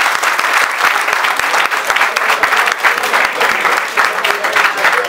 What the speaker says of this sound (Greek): Ένα χειροκρότημα στον Αλέκο τον Πολυχρονάκη, ρε παιδιά.